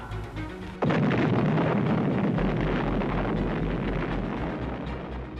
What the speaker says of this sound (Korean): 미국 뉴멕시코주의 미사일 실험장에서 인류 최초의 원자폭탄을 실험했습니다